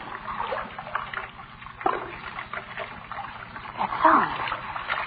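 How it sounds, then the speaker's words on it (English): Running water splashes and trickles in a dark basement, a steady low wash with a few louder splashes, heard faintly beneath a voice talking. "That sound. Running water."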